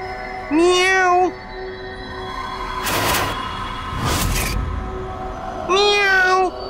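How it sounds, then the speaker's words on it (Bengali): A cat meows twice, loud and close, with a few seconds between the drawn-out calls, against a steady background hum and two brief bursts of rustling noise. "এই আওয়াজ, এর মানে এই ঘরে কোনো বেড়াল ঢুকেছে"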